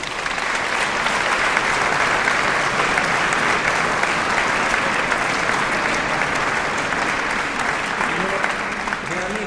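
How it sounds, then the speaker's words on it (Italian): A large audience applauds a professor at a church concert of Mozart's Requiem in Milan, with dense, even clapping that stays loud and steady from start to finish. "Quindi un grande applauso."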